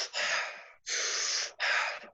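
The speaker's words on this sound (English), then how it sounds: "So we push that exhale out a little bit." Three fast, forceful breathwork exhales pushed out through the nose or mouth, close and loud, each a sustained rushing burst with short gaps between.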